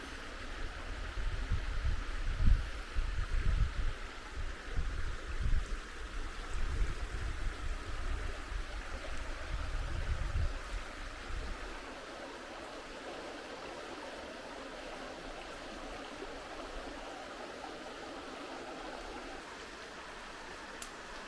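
A quiet stream in rewilded Portuguese countryside flows with a soft, steady burble, more rumbly and uneven at first, then settling into a smooth, gentle wash of water.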